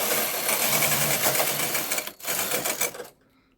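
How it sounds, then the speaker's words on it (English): A knitting machine carriage pushed across the needle bed while knitting a row in punch card mode, a loud continuous mechanical rattle and clatter with a brief dip partway through, then stopping abruptly. "Then I'm going to knit another one row right now."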